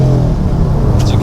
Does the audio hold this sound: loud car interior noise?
yes